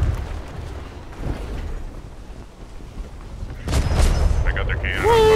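Naval cannon fire and a booming explosion in the Atlas video game, a schooner battling an armored sloop at sea: dense, rumbling low-end blasts with a fresh loud burst near the end, with players talking over it.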